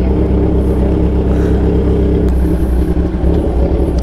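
A vehicle with a loud exhaust rumbles and revs on a road, a continuous close engine drone with wind noise and a brief swell partway through.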